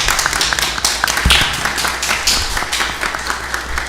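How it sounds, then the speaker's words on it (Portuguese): Applause breaks out during a municipal council session, a brief burst of clapping from a modest crowd, fairly close and loud, with scattered sharper claps. "Então eu gostaria de uma salva de palmas para esse pessoal"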